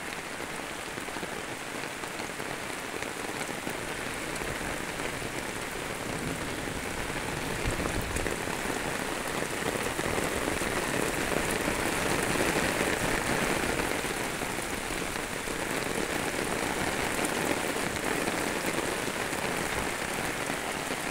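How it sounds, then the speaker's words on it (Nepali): Heavy rain pours steadily onto surfaces, a dense, unbroken hiss of drops that swells slightly partway through and never lets up. "भव्य पानी पर्यो"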